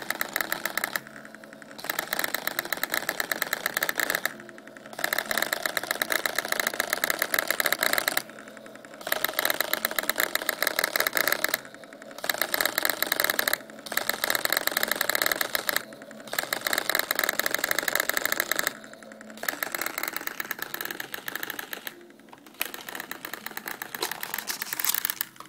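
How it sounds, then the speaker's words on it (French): A TRS-80 PC-2 pocket computer's four-colour pen plotter prints a program listing, its pens buzzing and rattling in long continuous bursts broken by short regular pauses. "Et ensuite, on fait list pour imprimer le programme sur le plotter."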